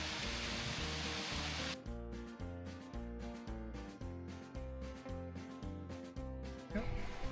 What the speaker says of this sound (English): one of the prettiest waterfalls I've seen in a while. So there you go, Gill Force.